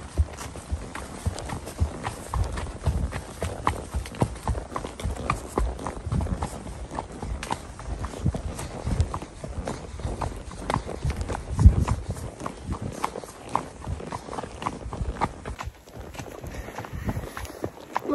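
A horse named Max clip-clops steadily along a woodland trail on the ride home, hooves landing in a quick, even walking rhythm close by with faint rustle around them, briefly dropping away near the end.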